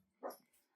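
An anxious dog lets out a single short, faint whimper or yip from another room, brief and alone with no voices.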